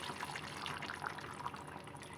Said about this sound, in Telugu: కొద్దిగా వాటర్ పోసుకోవాలి.